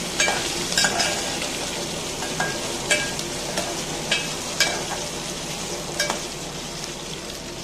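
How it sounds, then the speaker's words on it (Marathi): Sabudana khichdi with boiled potato and peanuts frying in a pan, a continuous loud sizzle close by with periodic scraping clicks of a spoon stirring, no voices. "ते शेंगदाणे मी याच्यामध्ये घालून घेतले आणि पुन्हा एकदा ढवळून घेऊया आपण ह्याला."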